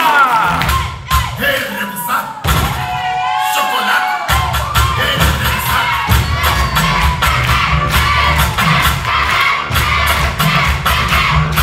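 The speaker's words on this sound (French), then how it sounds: "Maximum d'applaudissements pour Fidia Diala." A crowd at a regional government hall event cheers, whoops and yells for a children's dance group, the shouts loud and close over music with a heavy beat.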